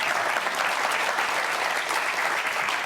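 A television studio audience applauds steadily to welcome former Vice President Mike Pence onto Sean Hannity's show, a dense, even wash of clapping throughout.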